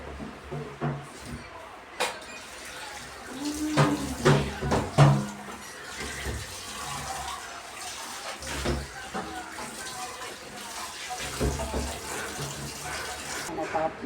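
Dishes are washed under a running kitchen tap, a steady wash of flowing water with scattered clinks and knocks of crockery. A voice talks at times over the water.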